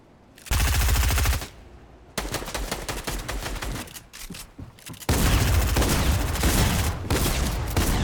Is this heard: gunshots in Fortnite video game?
yes